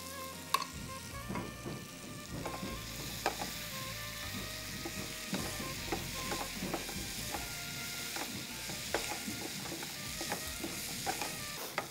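Soya chunks sautéing in a pan give a close, continuous sizzle with frequent scraping and clicking of a spatula stirring against the metal, steady throughout.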